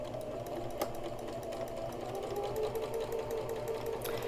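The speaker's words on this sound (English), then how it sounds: "we're just going to sew just the side edges" Close by, a sewing machine runs a steady, fast stitch along the side edges of a cloth face mask, its needle ticking evenly under a constant motor whir.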